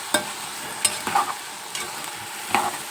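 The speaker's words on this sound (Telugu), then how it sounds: "చూసారా, ఏగుతుంటే ఆయిల్ పైకి వస్తుంది అన్నమాట." Curry ingredients sizzle in three spoons of hot oil while being stirred, giving a soft constant frying hiss broken by several sharp spoon-scrape and clink accents.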